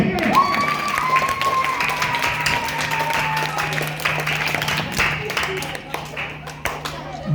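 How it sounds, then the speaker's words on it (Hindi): An audience claps at an award ceremony, a steady wash of clapping throughout with a constant hum underneath and voices talking over it. "ताली बजाइए।"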